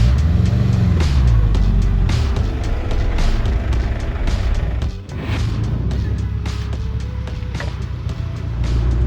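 Loud road noise from inside a moving Subaru, with a steady low rumble and intermittent scraping, rubbing sounds from a wheel.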